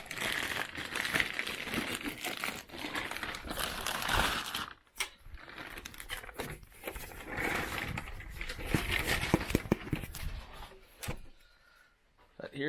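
Plastic crinkles and crackles in irregular bursts close to the microphone, with brief pauses, as a protective plastic bag is pulled open around a Synology RackStation RS1219+ 8-bay NAS unit.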